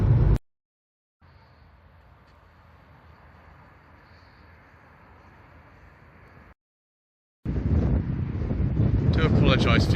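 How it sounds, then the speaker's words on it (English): Wind buffets the microphone in rough, low rumbling gusts in wet weather beside a parked car, broken by short silences, then a louder burst of blustery wind noise at the end. "it is very wet and windy out here"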